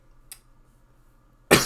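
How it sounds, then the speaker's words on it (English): One harsh, loud cough bursts out alone from a man with a sore throat, preceded by a tiny faint throat click. "I have a sore throat and it's causing me to cough"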